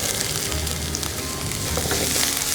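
Oil sizzles and crackles steadily in a pan as curry leaves and onion fry for a Chettinad country chicken curry, a bright, continuous hiss close by with no talking.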